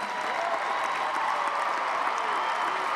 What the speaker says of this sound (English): let's give another round of applause for all of our graduates